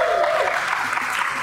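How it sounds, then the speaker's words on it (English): Crowd applause from the WWE 2K18 video game, a brief burst of dense clapping at moderate loudness that fades out within a second or two. "Why is everybody clapping?"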